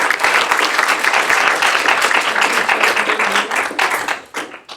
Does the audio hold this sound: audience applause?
yes